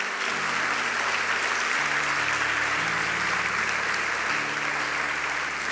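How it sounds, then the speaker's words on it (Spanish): Congregation applause in a church, sustained and dense for several seconds, filling the room with steady clapping and a low murmur beneath. "Dale un aplauso al Señor"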